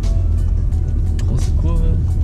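A driving-school car accelerates after a downshift, its engine droning low and steady inside the cabin while people talk over it.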